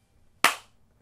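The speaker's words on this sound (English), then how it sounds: "Let me get a better clap on." A single sharp hand clap used to sync audio before an acoustic cover song, one crisp close snap in a quiet room that decays quickly.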